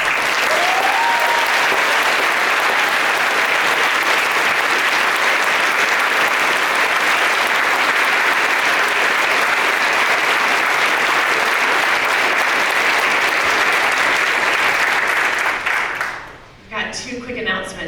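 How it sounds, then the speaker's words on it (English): Rousing applause from a school audience after a senior speech, a loud dense roar of clapping held steadily for about sixteen seconds before dying away, followed by a brief voice at the end. "Let's give one more rousing round of applause"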